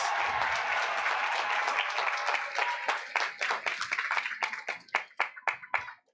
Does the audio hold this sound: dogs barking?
no